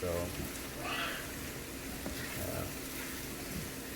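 Poha frying with soft scrambled eggs in a home kitchen pan, a steady broadband sizzle running throughout with faint stirring scrapes, partly under a voice speaking near the start.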